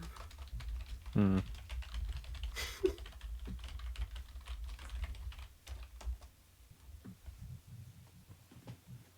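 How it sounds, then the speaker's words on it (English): Someone types on a computer keyboard in quick, irregular bursts of soft clicks, fairly close and continuous, with a few louder knocks and brief voice sounds in the background. "Just typing it from my note cards under the chat."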